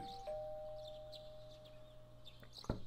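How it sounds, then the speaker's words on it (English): A doorbell chimes in the video game Persona 4 Golden, a sustained electronic ding tone over a low background hum, with a brief sharp click near the end. "You hear the doorbell ringing."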